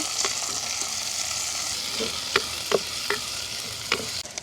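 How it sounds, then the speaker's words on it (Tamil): Curry leaves, onion and green chilli stir-fry in a pan for a village-style jackfruit curry. A continuous close sizzle is broken by several sharp spatula scrapes and taps in the second half. "கருவேப்பமிலையும் போடுவோம் இப்படியே நல்லா வடிவாக பிரட்டி விடுவோம்"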